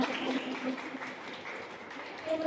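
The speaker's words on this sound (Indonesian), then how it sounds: "tepuk tangan untuk Rizka" A nursing class in a training room gives a student steady, moderately faint applause, a dense wash of clapping from the group with a few voices mixed in.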